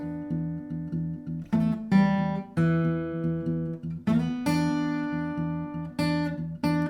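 Fingerpicked blues guitar in E: a bouncing low bass pattern under sharp plucked treble licks, played solo at a relaxed shuffle.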